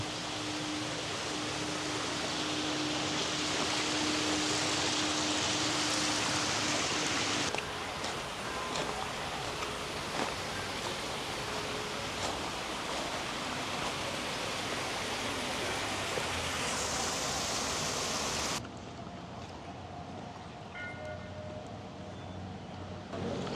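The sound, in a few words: waterfall flowing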